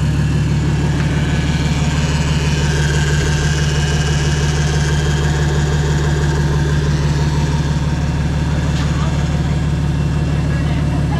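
A BMW M57 diesel engine, swapped with an 8HP70 gearbox into a 135 E82, idles at its first start-up with a loud, steady low clatter and hum, while a voice speaks over it.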